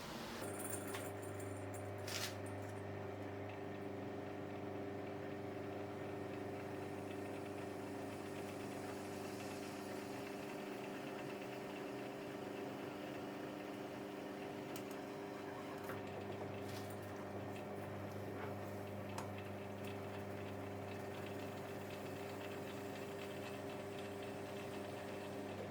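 A pillar drill fitted with a 150mm hole saw runs continuously while cutting acrylic discs, a steady droning hum with strong tonal harmonics that holds for the whole stretch, with faint clicks on top.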